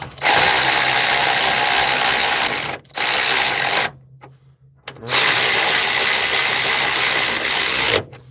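A handheld electric power tool whirring loudly and close in several bursts of a few seconds each, stopping and restarting with short quiet gaps between runs.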